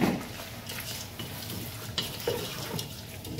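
Halved shrimp, both small and large, sizzle in a pan, a steady close hiss with soft stirring clatters and occasional crackles, with no voices.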